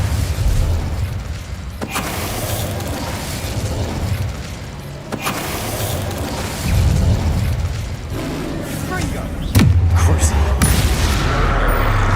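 A Confringo fire-blast spell explodes during Hogwarts Legacy combat, a dull booming burst standing out against dense, loud game action and effects with low rumbling throughout.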